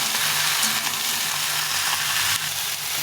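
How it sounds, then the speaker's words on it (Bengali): Vegetables and potato pieces frying in a pan for a Bengali curry, with a loud, even crackling sizzle throughout, occasional stirring, and no speech. "এখন বাকি তরকারিগুলো দিয়ে দিই। ভালো করে একটু ভেজে নেব।"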